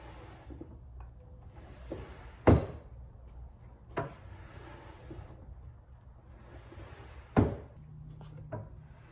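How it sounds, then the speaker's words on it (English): Modular cabinet drawers loaded with about 100 pounds of steel slide open and shut, with several heavy thuds and knocks spaced over low room noise. "So this will give you an idea how easy they are to open with 100 pounds in them."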